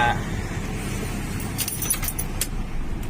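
Car engine switched off with the key during a dashboard battery warning light check: a steady low engine rumble runs throughout, with a few bright metallic key jingles near the end, close and moderately loud.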